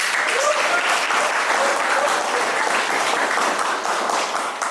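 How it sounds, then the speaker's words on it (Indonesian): A classroom of students applauds groups 3 and 4, a dense, steady burst of clapping from many hands close by that fades slightly toward the end. "boleh kasih tepuk tangannya"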